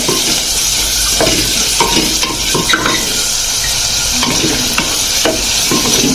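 Onion for a chana dal and rice khichdi frying in a pan until pink, a loud steady sizzle under repeated scraping and clinking stirs of a spatula, close and continuous, with nobody speaking.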